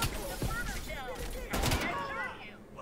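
Gunfire in the Call of Duty: Black Ops Cold War campaign, sharp shot bursts at intervals mixed with game sound effects and voices talking over the action.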